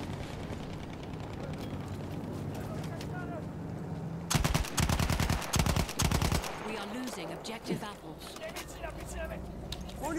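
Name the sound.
gunfire in video game Battlefield 1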